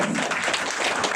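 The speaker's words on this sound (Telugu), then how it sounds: "Big round of claps to all the students." An audience at an event honouring students claps in a brief, steady burst of applause, loud and dense throughout.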